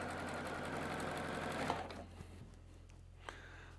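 Sewing machine stitching a quilt star onto the short end of a row of colored fabric pieces, a steady close whir for the first half that stops, then a few faint clicks.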